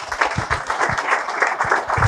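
Applause welcoming the Mayor at the Mayor's Christmas Cheer Fund launch in Bulawayo, a steady, moderately loud crowd clapping throughout the short stretch, with no talk over it.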